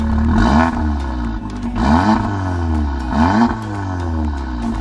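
A Mk7 Golf R with an APR downpipe and pops-and-bangs tune, engine still cold, revs up in three loud, close sweeps, each rising and falling with a throaty exhaust note over a steady idle.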